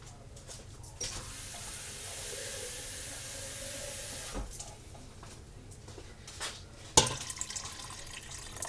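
Water poured into a pot while cooking canned-chicken chicken and dumplings, a steady hissing splash running for several seconds, then a few clinks and knocks near the end; no talking.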